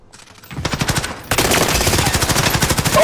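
Rapid automatic gunfire in Call of Duty: Modern Warfare, a fast rattling burst that starts thin and quickly swells into a loud, continuous stream of shots with no talk over it.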